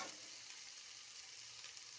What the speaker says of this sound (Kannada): ಗಜ್ಜರಿಯನ್ನು ಹಾಕಬೇಕು. ಹಾಕಿ ಚೆನ್ನಾಗಿ ತಿರುವಬೇಕು.